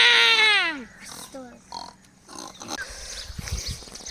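A person imitates cattle lowing with a drawn-out rising and falling call, followed by shorter vocal bursts and some talk, outdoors in a Konkan village where cattle graze.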